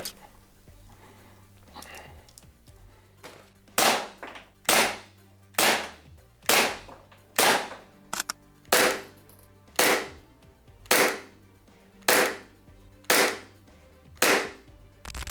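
Sharp shots from a WE Glock 17 Gen4 airsoft pistol fire at a steady pace, about a dozen crisp cracks roughly one per second after a quiet start, close and loud.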